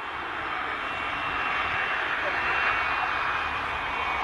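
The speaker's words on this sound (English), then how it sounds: "This Royal Air Force plane had its nose gear collapse while landing during an air show." A Royal Air Force jet coming in to land at an air show, its engine a loud, steady broadband roar that holds evenly throughout, with a voice faintly present.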